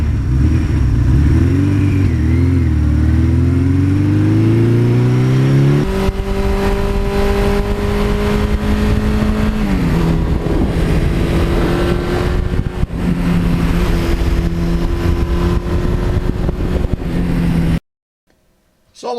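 A 1982 Suzuki GS1100E motorcycle engine runs loud and close, revving up with rising pitch, settling, then climbing again in repeated throttle blips before cutting off abruptly near the end.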